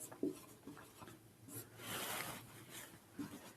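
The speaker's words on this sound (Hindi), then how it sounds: "अब यहाँ लिखेंगे बहुपद" Pen or chalk writing out a polynomial math problem, a series of soft scratchy strokes with brief pauses between them, close and fairly quiet.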